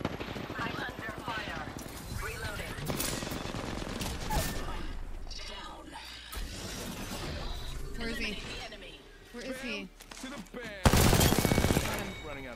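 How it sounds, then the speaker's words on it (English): Video game gunfire, rapid bursts of shots and impacts popping through the mix while players talk over them, with a loud burst near the end. "Somebody shooting at us?"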